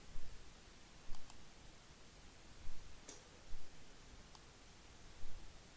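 Several faint, sharp computer mouse clicks land on a software dialog button, spaced irregularly over a soft hiss with no voices.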